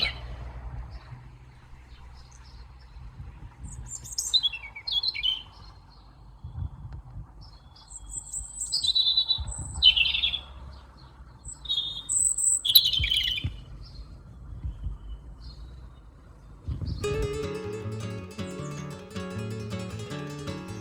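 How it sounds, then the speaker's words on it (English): Robin in a UK winter garden, giving scattered high, thin tweets and trills from a corner, fairly faint against quiet outdoor ambience, before music comes in near the end. "take a look and you might see a little robin tweeting away in the corner"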